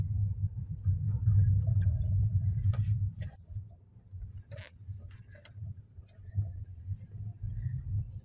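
A car rolls through the SRMS medical college campus in Bareilly, its low engine rumble steady and fairly quiet, with a few faint clicks and rattles on top.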